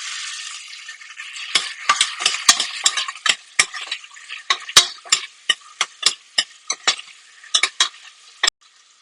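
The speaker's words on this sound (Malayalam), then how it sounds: "എണ്ണ ചൂടായി വരുമ്പോഴത്തേക്കും അതിലേക്ക് നമ്മൾ അരിഞ്ഞു വെച്ചിരിക്കുന്ന സവോള ഇട്ട് കൊടുക്കുക." Chopped onion frying in hot oil for a Kerala vegetable kurma, heard as a bright crackling sizzle broken by many loud, sharp spatula clacks against the pan in an irregular rhythm; no talking.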